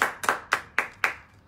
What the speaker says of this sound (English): Clap for Danny